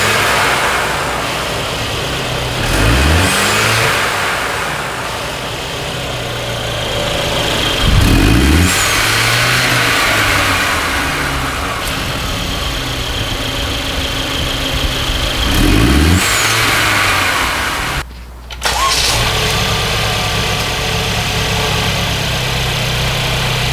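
A 2017 Mercedes C300 with a GFB blow-off valve fitted revs repeatedly, with three or four loud throttle blips each ending in a sharp whooshing valve release over a steady idle, alone with no talk.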